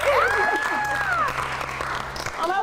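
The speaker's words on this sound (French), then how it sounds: "Applaudissez." Audience applause at a French comedy show, with a continuous wash of clapping and a loud whistle-like tone that rises, holds and falls over it.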